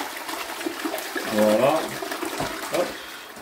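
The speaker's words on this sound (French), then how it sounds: "on tire une dernière fois la chasse d'eau" A toilet flushes once after being cleaned with The Pink Stuff toilet cleaner, a close rush and swirl of water lasting a couple of seconds while a person speaks briefly over it.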